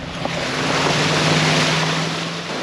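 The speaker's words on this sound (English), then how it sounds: "Trickles now are raging torrents, closing Highway 103." A flooded stream in Vermont, swollen from a trickle into a raging torrent, roars as a steady, loud, unbroken rush of water, with wind noise on the microphone.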